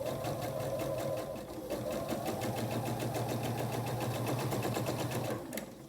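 A sewing machine stitching a rail fence quilt block seam runs in a steady, fast mechanical whir with rhythmic needle clatter, close and loud, then stops near the end.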